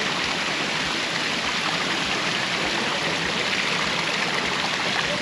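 Water from a park fountain near waterfalls in Uruapan, Michoacán, Mexico, splashes and rushes in a dense, steady roar, close and constant throughout with no voices.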